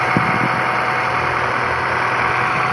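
A vehicle engine idling steadily, a continuous loud rumble with even vibration and no change in pace throughout, with no talk over it.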